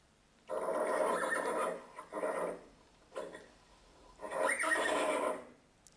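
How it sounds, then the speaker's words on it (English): A horse neighs in several loud, shrill whinnies separated by short pauses, each call rising and wavering before trailing off, heard alone against a quiet background. "It's a horse."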